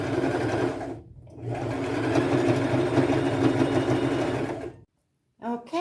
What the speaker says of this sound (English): I could just do a small tight zigzag stitch, which is what I will opt to do